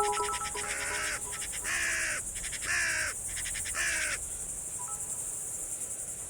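Crow caws from a stream alert: a run of about four harsh, evenly spaced calls over a steady high insect-like hiss, fairly loud and up front, then just the hiss continues.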